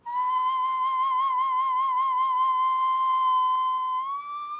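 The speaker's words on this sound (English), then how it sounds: "Whistles carved from stone." A stone whistle of the kind excavated at Chavin gives a single sustained, clear pitched tone that wavers slightly and rises near the end, played alone and close.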